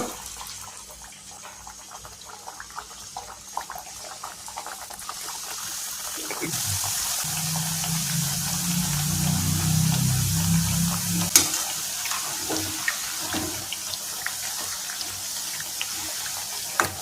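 Thinly rolled healthy snacks fry in hot oil over a medium flame, making a steady bubbling sizzle that swells louder midway, with faint clicks and scrapes throughout.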